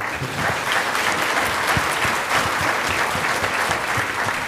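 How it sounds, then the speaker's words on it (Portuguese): Steady applause from a seminar audience closing a hospital grand rounds session, dense and continuous clapping holding at an even level throughout, with no voices above it. "Eu queria que vocês dessem uma salva de palmas para isso."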